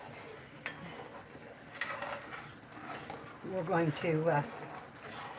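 A spoon stirs gravy in a pan for chicken fried steak, with a few sharp clinks and a cluster of scraping, rattling strokes, while someone talks throughout.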